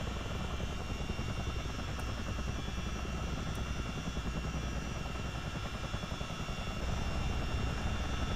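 Twin engines of a CH-47 Chinook tandem-rotor helicopter in a flight simulator game run with a steady, dense roar and a continuous rotor drone that holds level throughout, with no voices.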